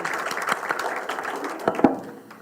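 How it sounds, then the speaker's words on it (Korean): Audience applause at a Korean workers' rights union commemoration ceremony, a brief patter of scattered hand claps from a modest crowd that thins out within a couple of seconds. "두 분께 박수 부탁드립니다."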